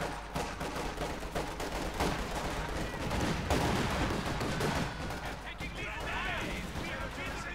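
An infantry grenade assault in the strategy game Company of Heroes 2 unfolds as a dense, continuous barrage of rapid gunfire and blasts, loud and crowded throughout with overlapping bursts and impacts.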